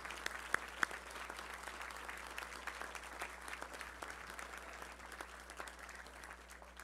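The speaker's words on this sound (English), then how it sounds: "Please stand and let's give them a round of applause." An audience at a touchdown club luncheon gives a sustained round of applause honoring players' families, a dense steady clatter of many hands filling the room at moderate level, with a few sharper claps standing out near the start.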